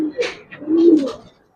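A Giribaz silver pigeon, a high-flying breed, gives a short, close coo with a low throaty rolling tone, lasting about a second.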